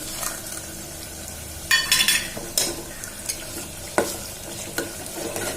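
Whole spices drop into hot oil in a pan for a mutton biryani and burst into a loud sizzle, followed by crackling and the scrape of a spoon stirring against the pot.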